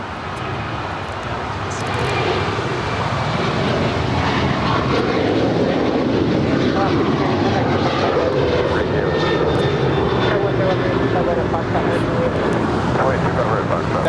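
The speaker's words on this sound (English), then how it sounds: "That is Alaska Airlines Flight 290 departing to Guadalajara. It's a 737-900ER." Alaska Airlines Boeing 737-900ER departing LAX for Guadalajara: jet engine roar swells after two seconds and holds loud and steady, with people talking over it.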